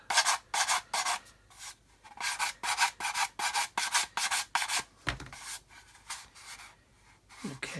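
Rhythmic back-and-forth strokes of a sanding stick blending a plastic model, about two dozen crisp, close rasps in regular bursts with short gaps and a brief pause near the end.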